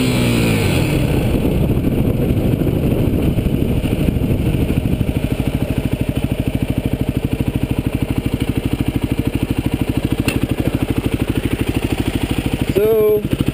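A Yamaha WR250X motorcycle engine running loud and close during wheelie practice, a constant rough throbbing drone with pulsing firing rhythm and a short rising rev at the end.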